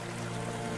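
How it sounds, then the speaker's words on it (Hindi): A cartoon forest waterfall gurgles and babbles in a steady, continuous wash of running water, close and even, with no voices over it. "झरने की कलकल वातावरण को और भी सुंदर बना रही थी।"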